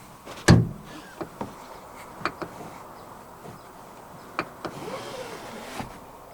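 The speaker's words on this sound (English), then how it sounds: "To flip the seat backs down, pull this strap" Rear seat backs of a 2023 Ford Ranger double cab being folded down by pulling a strap, a sharp loud thunk followed by quieter clicks and knocks of the seat mechanism inside the cabin.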